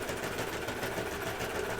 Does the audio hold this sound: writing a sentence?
no